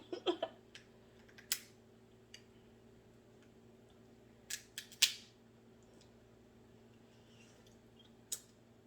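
Seafood boil shells cracked and pulled apart by hand, a few sharp close crunches and snaps separated by pauses, with faint clicks between and no speech.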